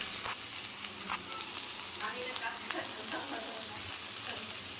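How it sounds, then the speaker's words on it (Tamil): Ivy gourd being sautéed in a pan with turmeric and chili powder gives a steady, soft sizzle with occasional stirring scrapes, at a low, even level with no talking. "ஒரு ரெண்டு நிமிஷம் நல்லா வதக்கணும் மஞ்சத்தூள் மிளகாத்தூள் பச்சை வாசனை நல்லா போடுற அளவுக்கு கலக்கிடணும்"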